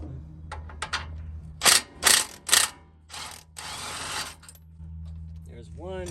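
Ratchet clicking while removing 22 mm lower ball joint bolts on a second-generation Toyota Sequoia suspension, several short bursts of rapid ratcheting up close, with mechanical clatter and a low hum.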